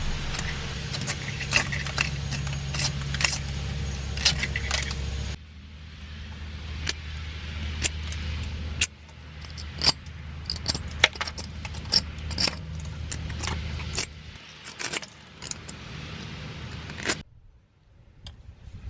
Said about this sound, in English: I like to use a dental pick to break the rust free at the junction where the bolt meets the cover